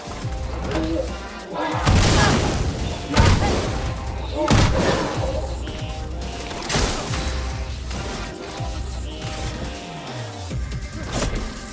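Cannon fire in Clair Obscur: Expedition 33 booms several times at irregular intervals, heavy thuds and crashing impacts layered over a game music score, with a voice speaking briefly between shots.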